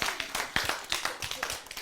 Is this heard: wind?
no